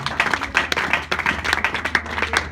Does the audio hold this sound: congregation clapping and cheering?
yes